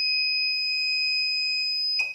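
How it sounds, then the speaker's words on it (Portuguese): An Ouzer wireless fire alarm control panel sounds its common alarm as a loud, steady high-pitched electronic tone that holds unbroken and then cuts off abruptly with a click. "Alarme comum acionado."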